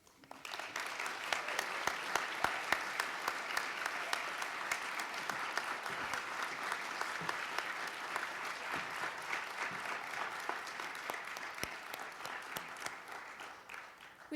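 Sustained applause from an audience at a university Ladies Night event, honoring presenters and performers; dense, steady clapping from a large crowd with a few sharper claps, fading slightly toward the end.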